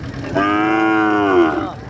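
A bull or calf moos loudly at a cattle market, one long steady bellow of over a second, close and clear above faint background crowd noise.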